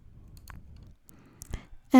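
Faint computer mouse clicks come in a few quick, isolated taps against a quiet background as free games are selected on a computer, and a short loud burst follows at the very end.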